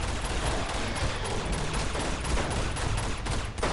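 Gunfire from Uncharted 2, in the monastery level, forms a dense, continuous barrage that stays steady and loud for the whole stretch, with no distinct single shots and no talk.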